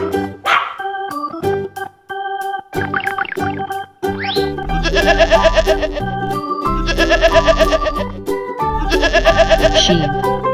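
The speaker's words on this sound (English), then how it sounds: "sheep," Several bleating sheep-like calls come in three wavering, nasal bursts close up, blended with a cheerful children's music track and low thumping beats.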